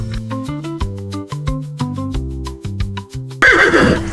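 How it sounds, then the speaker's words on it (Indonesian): A horse whinnies in a long series of stepped, wavering neighs, close and clear, ending with a short breathy snort-like burst. "Kuda."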